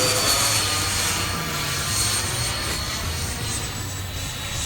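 A model F-14 Tomcat jet with swept wings makes a full-speed pass over a runway. Its engine gives a continuous, loud rushing roar that holds steady and eases only slightly through the pass.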